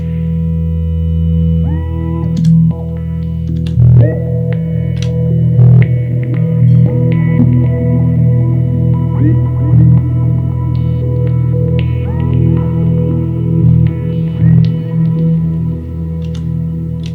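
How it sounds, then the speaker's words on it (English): A guitar runs through a pedalboard with an envelope filter using sample and hold, delay and reverb, producing sustained droning tones with sweeping, gliding filtered notes and echoing trails layered into a dense, continuous texture. "envelope filter stuff with some sample and hold, a little bit of delay on it, and then some reverb"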